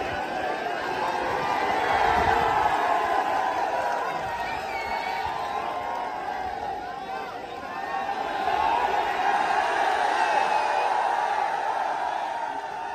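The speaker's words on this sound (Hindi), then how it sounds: "ये बहुत तगड़ी भीड़ है।" A large crowd gathers at a garlanding event for Chandrashekhar Azad, a loud, dense mass of voices shouting and cheering continuously, swelling and dipping slightly.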